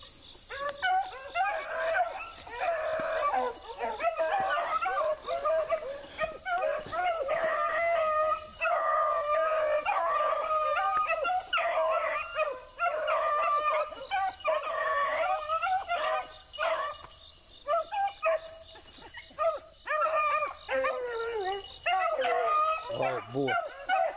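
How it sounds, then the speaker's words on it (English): A pack of beagles bays and howls continuously at a moderate distance in a swamp, overlapping voices rising and falling. "Listen to them dogs, y'all."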